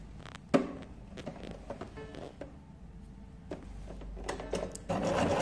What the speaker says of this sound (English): So let's take it to the sewing machine.